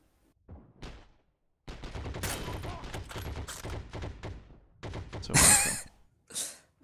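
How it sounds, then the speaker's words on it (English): A mounted machine gun fires in the World War II shooter game Heroes & Generals, in several irregular bursts of rapid shots separated by short pauses, with a louder burst near the end. "I'm just parked up on a mounted machine gun, up on the hill."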